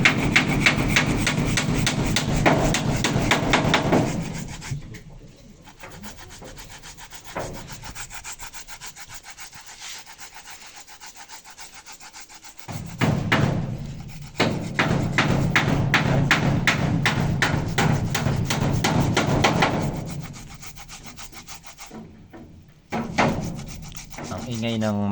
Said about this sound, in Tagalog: Gagadyan tayo ng balinghoy.